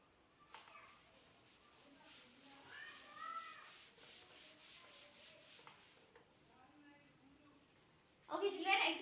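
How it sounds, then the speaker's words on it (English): Chalk is rubbed off a classroom board in rough, scraping strokes under a teacher's speech and children's voices, with a louder burst of rubbing at the end. "Shall I rub the board, children?"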